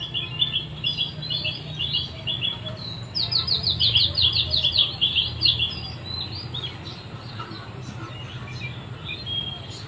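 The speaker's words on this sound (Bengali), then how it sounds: "অনেক রকমের পাখির ডাকিয়ে কিন্তু শোনা যাচ্ছে" Various birds call outdoors, with bright chirps and trilling tweets that come in short bursts and grow busiest midway, moderately close over a low, steady background murmur.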